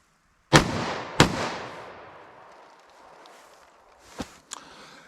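.45 pistol fired at a target outdoors: two sharp, loud shots about half a second apart, each with a long echoing decay, then two fainter, more distant-sounding cracks a few seconds later.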